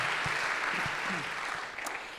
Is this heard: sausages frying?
no